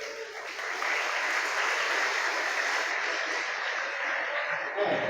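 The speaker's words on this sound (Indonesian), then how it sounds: "Tepuk tangan dulu dong." An audience of children at a Ramadan gathering in Indonesia claps together, a dense burst of applause that swells after a moment, holds steady and fades out near the end.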